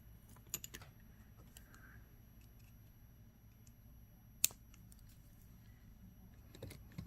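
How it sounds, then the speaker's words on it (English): Wire cutters snip off excess beading wire while an anklet is finished, making one sharp, quiet click midway, with a few faint small taps and clicks in a hushed room. "we'll cut off our extra wire here"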